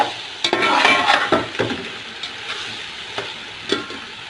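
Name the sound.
stirring chicken pulao in a cooking pot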